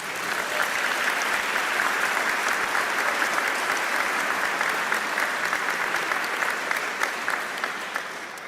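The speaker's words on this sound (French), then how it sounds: "Nous pouvons encore l'applaudir." A congregation claps steadily inside a cathedral for the choir, a dense, sustained applause filling the resonant space for several seconds with no voices over it, fading slightly at the end.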